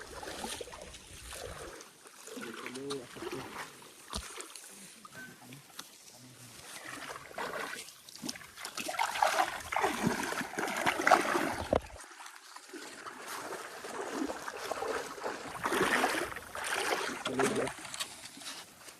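A clear, bridgeless mountain stream in Karbi Anglong rushes and splashes faintly as someone crosses it on foot. The flow swells and fades in loudness throughout.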